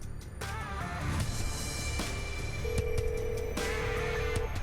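A telephone rings with repeated electronic tones over a low background hum, followed by steady ringback tones as a call goes through.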